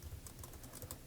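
Quick, light keystrokes on a computer keyboard while typing code, a steady close-up patter with no talk.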